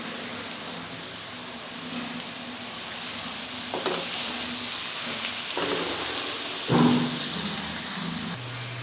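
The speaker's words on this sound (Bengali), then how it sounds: "দেখো পেঁয়াজটা ভাজা এখনও হয়নি।" Onions with salt fry in a pan, giving a steady, rain-like sizzle at close range, with occasional clinks and scrapes of a spoon stirring, one louder clatter near the end.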